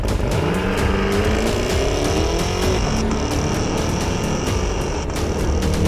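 A Cadillac Escalade-V with a 6.2-litre supercharged V8 drives along, its loud, steady engine roar rising in pitch as it accelerates, with a constant high supercharger whine over the top and no speech.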